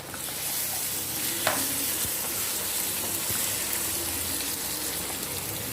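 Tempering spices, including asafoetida, sizzle and crackle steadily in hot oil, a continuous hiss with occasional clinks of a utensil stirring the pan.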